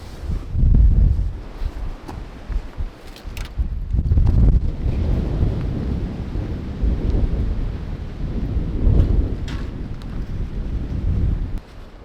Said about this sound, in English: It's not so bad until there's a gust of wind.